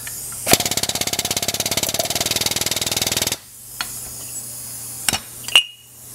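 An air-powered knockout punch cutting a hole in metal, heard as a rapid pneumatic rattle of fast, even impacts for about three seconds, close and loud, then stopping, followed by a few sharp metallic clinks and a quiet hiss.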